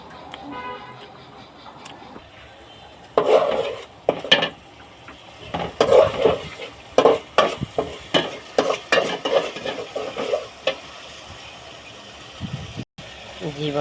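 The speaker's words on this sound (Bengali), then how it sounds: "জীবনে ফার্স্ট রান্না মুরগি দিয়া কাঁঠালের বিচি।" Chicken and jackfruit seeds being stir-fried in a pan: a run of brisk scraping stirs and clattering utensil strokes over a low sizzle, loud and close, with voices talking at times.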